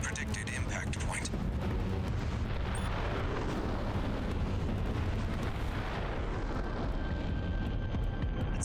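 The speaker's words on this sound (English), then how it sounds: "This is where the mega explosion is." A mega explosion in the mecha game Armored Core VI, a long low rumbling roar that fills the whole stretch at loud, steady level and fades slightly toward the end, with no voices.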